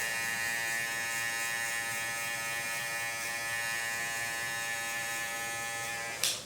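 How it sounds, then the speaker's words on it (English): An electric hair clipper with an open blade hums in a steady, close, loud buzz that runs unbroken throughout, with a small click as it cuts off at the very end. "Now I'm going to go with my open clipper"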